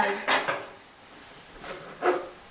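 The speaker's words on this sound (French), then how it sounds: "on a coupé la ciboulette" A knife cuts through chives on a board, giving a few soft, scraping chops in two short bursts, light and close with faint clinks, no talk over them.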